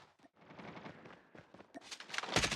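Gunfire in the mobile shooter Call of Duty Mobile, a run of rapid shots and bursts that build in loudness toward the end, mixed with footsteps and game effects.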